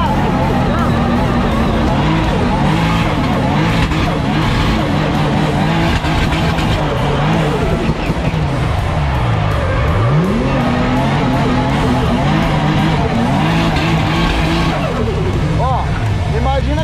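A car revs hard and drifts, its engine note rising and falling as the tires squeal and screech through slides, while people talk and a crowd chatters nearby throughout.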